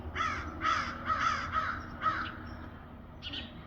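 A crow caws five times in a quick run, loud and harsh, then one more call after a short pause, with no one talking.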